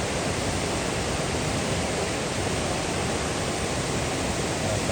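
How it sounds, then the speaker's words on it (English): Steady rushing, splashing water near a covered bridge on the Appalachian Trail, a dense unbroken hiss holding even and close from start to end. "There's a little splash off over there."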